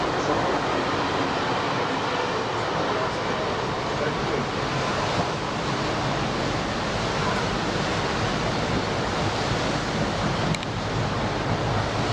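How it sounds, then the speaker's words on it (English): Powerful storm waves pound a shoreline along a railway line, forming a dense, continuous roar of surf and wind with no pauses, loud and close throughout. "These were some particularly powerful waves, one that ended up almost completely destroying a short stretch of shoreline railway."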